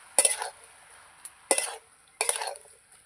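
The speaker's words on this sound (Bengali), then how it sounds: "এবার নাড়িয়ে নেব।" A spoon stirs bottle gourd curry with slit green chilies and hilsa fish head in a pan, making three short scraping, clinking bursts against the metal with quiet gaps between them.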